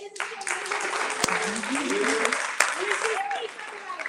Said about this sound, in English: you guys give a round of applause for Lakeith